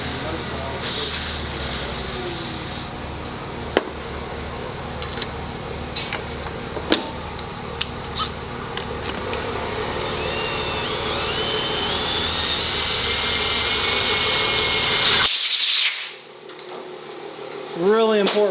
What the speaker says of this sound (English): we can ream that valve or ream that bore oversized for the larger valve